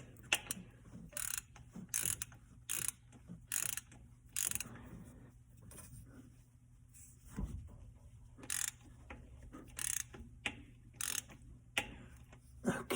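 A socket ratchet tightens a fitting during a Holley Sniper fuel injection install on a 1967 Camaro. Crisp bursts of pawl clicking repeat many times in short strokes, close up, with quiet gaps and a low steady hum underneath.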